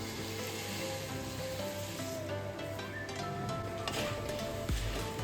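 Hot oil hisses and crackles steadily as puffed rice and roasted gram are fried in a turmeric tempering for chevdo, with occasional soft stirring scrapes and a low background hum.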